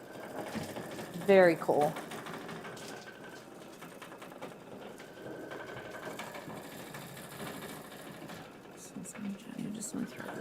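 An embroidery machine stitches a decorative bean stitch, its rapid mechanical whirr running under women's conversation, with a brief burst of higher-pitched chatter near the start.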